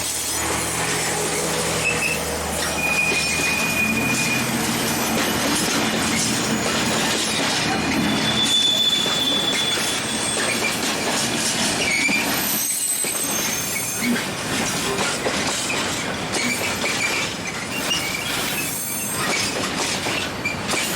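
Ex-Austrian Class 2043 diesel shunter, rebuilt as VR 0189, rolling through a rail yard with steady rumbling and rattling, high wheel squeals sounding now and then over continuous running noise.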